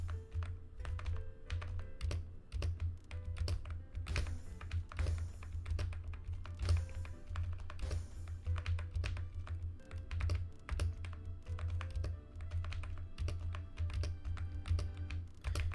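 A computer keyboard is hammered hard during a fast Tetr.io game, with rapid loud clacking and thumping keystrokes in dense, uneven bursts that run throughout.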